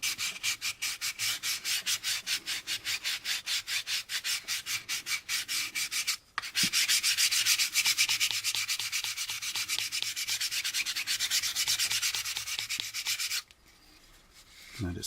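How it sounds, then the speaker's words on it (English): Sandpaper rubbed back and forth along a seam on a plastic model kit part, the AMT 1983 U.S.S. Enterprise warp drive engine, in rapid steady strokes close to the mic, with a brief break midway and a quieter stretch near the end. "sand it down to the height of the lowest point"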